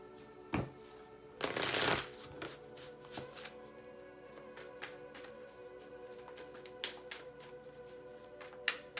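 A deck of cards is riffled in one quick burst, followed by scattered soft taps and handling noises in a quiet room.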